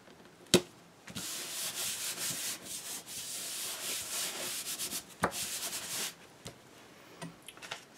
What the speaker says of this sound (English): I'm gonna run my bone folder one more time across just to get that flat